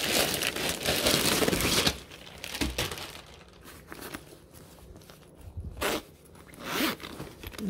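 The zippered bag holding a graphene heated jacket is opened with a long, close zip, followed by crinkling and rustling as the packaging and fabric are handled.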